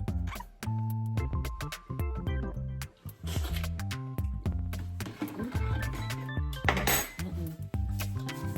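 A spoon stirs sugar into sorrel drink in a pot, giving steady close scraping and clinking against the pot's sides and bottom, continuous and fairly quiet, with no talking.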